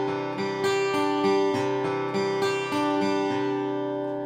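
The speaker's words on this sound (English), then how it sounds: "This is the acoustic sound with reverb on" Yamaha TransAcoustic LS-TA acoustic guitar with its built-in small room reverb and no amp, ringing chords strummed in a steady rhythm, each one blooming and sustaining into the next with a soft roomy tail, heard clearly and alone.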